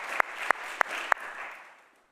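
A congregation in a church applauds in a short burst. A few sharp, evenly spaced claps stand out over a wash of crowd clapping that fades away within about two seconds.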